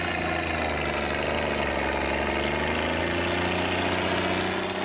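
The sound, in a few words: tractor engine running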